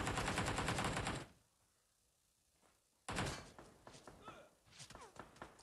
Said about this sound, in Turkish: Birileri sıkıyor abi.